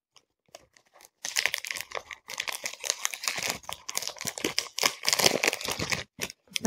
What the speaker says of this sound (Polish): Słuchajcie, gruba folia.